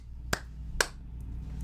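Two sharp, isolated hand claps about half a second apart, fairly close and clear, set against a quiet background during a children's Mother Goose music and singing session.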